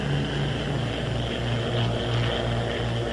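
A Bell P-39 Airacobra, a World War II single-engine propeller fighter, drones past in flight with a steady, throbbing engine roar and prop beat, loud and continuous throughout.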